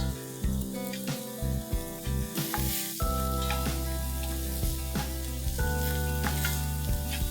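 Finely chopped onions sizzle and fry in a pan for an egg ghotala, a loud, constant crackling hiss close up, broken by a few stirring scrapes and clinks, with no talking.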